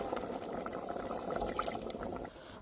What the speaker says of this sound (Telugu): ఒక చెంబు వాటర్ అయితే పోసేసాను